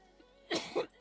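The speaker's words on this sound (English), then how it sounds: "I hate how much I'm coughing" Three short, forceful coughs close to the mic, each a separate burst in quick succession after a quiet lead-in.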